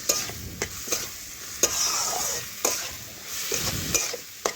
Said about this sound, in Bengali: আবারও একটু নাড়াচাড়া করে আমি কিছুক্ষণ রান্না করে নিচ্ছি